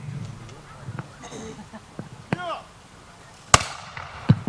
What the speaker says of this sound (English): Now they're going to fire smoke, and they're going to fire little explosive rounds.